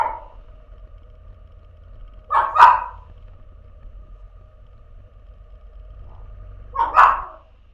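A dog barks twice, a short double bark and then another several seconds later, over a low steady engine rumble.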